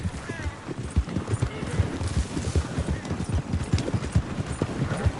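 Horse hooves clip-clopping at a steady trot in the video game Red Dead Redemption 2, a dense, even rhythm of close, punchy hoof strikes, with a brief whinny-like sound mixed in.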